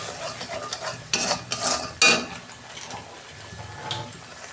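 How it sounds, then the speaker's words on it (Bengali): Spice masala sautéed in a pan with turmeric and salt: a continuous sizzle broken by several loud scraping stirs and clatters of the spatula against the pan, close and clear. "এই যে মশলাটা আমি কষে নিচ্ছি"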